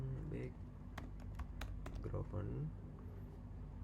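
Keystrokes on a computer keyboard while entering code, a quick run of sharp clicks in uneven bursts with a voice talking over them.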